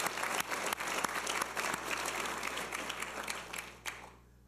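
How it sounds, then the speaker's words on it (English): An audience claps for student athletes at a college athlete of the year awards ceremony, a brief burst of steady, moderately distant applause that fades out at the end. "So we give them now a round of applause."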